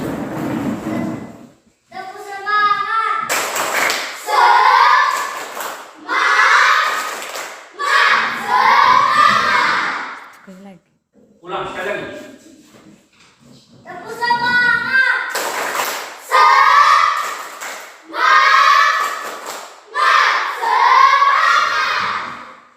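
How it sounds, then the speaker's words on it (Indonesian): A group of children does tepuk semangat, the Indonesian spirit clap, beating out bursts of rhythmic clapping while chanting loudly along, with short pauses between each round. "jadi kita tepuk semangat ya"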